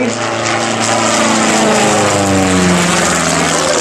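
Andreasson BA4B, a compact aerobatic racing biplane, roars past with a loud, steady propeller engine drone at an airshow, the pitch sliding slightly as it passes close by, with no talk over it.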